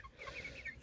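Meat chickens in a chicken tractor cluck softly, a brief, faint stretch of low clucks and chirps.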